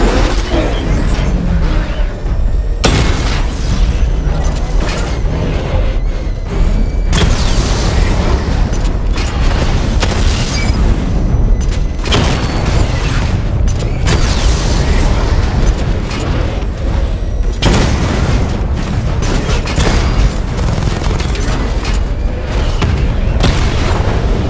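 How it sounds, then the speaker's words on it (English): A sustained barrage of missile explosions and heavy mechanical booms from a Batman video game, loud, dense and continuous throughout, with no pauses. "Charge up missile barrage to level 2 and destroy 4 active targets to complete diagnostic test."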